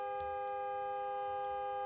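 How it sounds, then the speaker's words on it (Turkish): A car horn blares in one long, unbroken tone, steady and fairly faint, with no pauses or talking. "E hani kapanmadı hala korna çalıyor abi."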